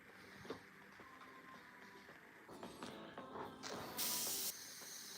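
An airbrush sprays paint onto a Warhammer miniature, giving a close, steady hiss with a brief louder burst near the end and no talking.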